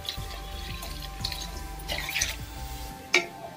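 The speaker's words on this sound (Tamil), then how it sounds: "இப்போ நம்ம சாம்பாருக்கு தேவையான அளவு தண்ணி ஊத்திக்கலாம்." Water poured into a pot of radish sambar while cooking, a soft trickle and drips with faint clinks of the vessel, quiet and close with no talking.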